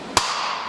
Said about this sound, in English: you get a pretty decent explosion